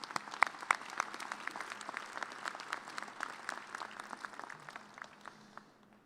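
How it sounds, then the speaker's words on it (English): Commencement audience applause at a fall graduate school ceremony, a fairly faint, distant patter of many hands clapping steadily for about six seconds before tapering off. "Please join me again in a round of applause for these individuals."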